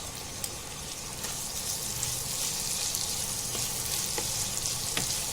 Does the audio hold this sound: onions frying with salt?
yes